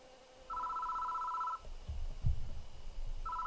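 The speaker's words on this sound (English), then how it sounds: "The phone is ringing." A telephone bell in the horror video game Death Mark rings in two clear electronic bursts, one long ring and the start of another, with low rumbling game ambience between them.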